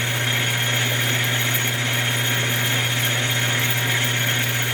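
A Hardinge HLV lathe makes an interrupted cut on a ring with bolt holes. A steady loud machine drone with a constant low hum and a bright cutting hiss runs throughout, uninterrupted and close, with no voices.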